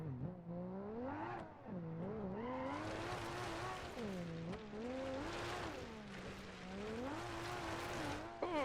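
A damaged car in BeamNG.drive losing control and spinning: the engine revs rise and fall as the tyres squeal and skid through the spin, loud and continuous.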